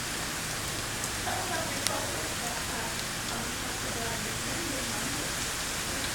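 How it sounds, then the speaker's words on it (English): Steady rain falling outdoors in Florida, a dense, even hiss of drops on surfaces that holds constant throughout, with faint voices murmuring underneath. "It's raining."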